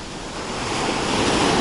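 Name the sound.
huge stormy sea waves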